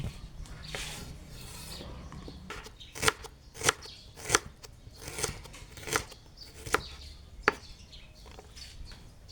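A knife chops sharply on a board in a steady series of crisp strikes, following a few quieter scraping cuts, while ingredients are prepared for Thai beef laab with lime.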